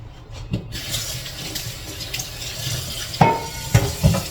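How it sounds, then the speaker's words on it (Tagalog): Tap water runs and splashes into a cooking pot for beef nilaga, a steady pour with a few louder clanks and splashes toward the end, close and alone. "Lagyan natin ito ng tubig."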